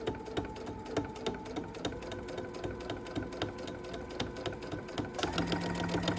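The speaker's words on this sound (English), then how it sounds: "and then we start sewing till we get to our corners" Sewing machine stitching fabric for a kitchen pot holder, a steady, fast mechanical rattle of stitches running continuously at close range, quiet and unbroken, picking up slightly toward the end.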